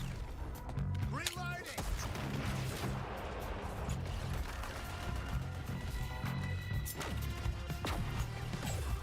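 Combat in the video game Suicide Squad: Kill The Justice League, with repeated booming artillery blasts and crashes over dense noisy battle sounds, with a synthetic voice speaking throughout.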